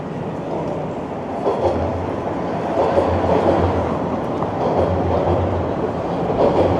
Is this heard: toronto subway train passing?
yes